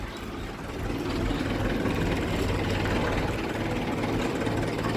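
A tractor's engine idles nearby with a low, steady diesel rumble that swells slightly after the first second and then holds even, with no voices over it.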